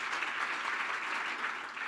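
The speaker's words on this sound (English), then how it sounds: "please give everyone a round of applause" A dinner audience at a teachers' careers event applauding, a continuous dense patter of many hands clapping for a couple of seconds, moderately distant, with no talk over it.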